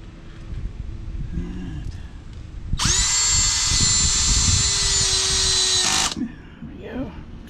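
A power drill drives screws into an RV slide, a loud high whine lasting about three seconds amid handling noise, with a person talking before and after.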